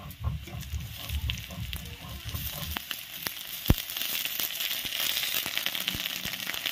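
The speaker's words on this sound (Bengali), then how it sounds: "তেলটা গরম হয়ে গেল, এবার দিয়ে দিলাম জিরা, এবার দিয়ে দিচ্ছি পেঁয়াজ" Cumin, onion and ginger paste fry in hot oil with a steady sizzle and scattered crackles, plus a few sharp clicks of a utensil against the pan.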